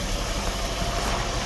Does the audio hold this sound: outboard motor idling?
yes